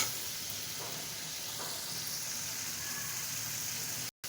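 Chili powder, cumin paste and spices frying in a pan for a rohu-style bata fish curry with radish, a steady soft sizzle with faint stirring scrapes, close and without talk, cutting out briefly near the end.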